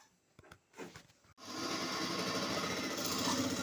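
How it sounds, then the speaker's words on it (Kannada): A sewing machine stitches an embroidery blouse, with a steady close mechanical whir starting after a few handling sounds and continuing to the end. "ಈಗ ಇದನ್ನು ನಾವು ಸ್ಟಿಚ್ ಹಾಕಬೇಕು."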